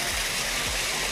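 Fresh stream water rushing steadily at a tilapia fishing spot, a loud, continuous close wash with gurgling undertones and no pauses.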